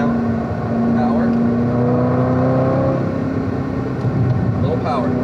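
A Corvette C7 ZR1 pulls hard on a race track at Spring Mountain: a sustained engine drone climbing in pitch under acceleration, with an instructor's voice speaking over it.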